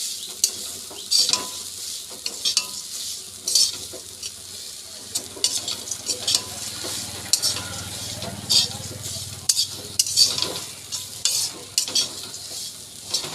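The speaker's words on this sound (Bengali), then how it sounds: "আমি একটু নাড়াচাড়া করতে লাগি।" Flattened rice (chire) being stirred in a frying pan with chilli, ginger and curry leaves: a steady close sizzle broken by repeated scraping and clattering strokes of a spatula, with no talking.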